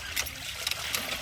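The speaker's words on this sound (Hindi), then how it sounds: "देखि ना कते कते पानी निकलइए" Water trickling and splashing from a hand pump outdoors, a soft steady flow with a few brighter splashy bursts, moderately close, with no talking.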